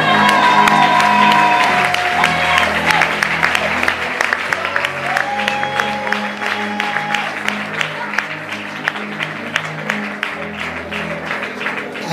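A church congregation at a worship service applauds and cheers, with dense clapping that is loudest at first and slowly thins, while voices call out over it.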